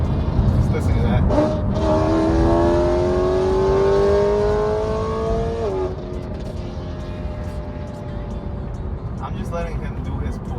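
A straight-piped BMW E92 M3 on a drive, its engine note climbing steadily in one long pull before easing off, heard over loud road and wind rumble, with a voice speaking now and then.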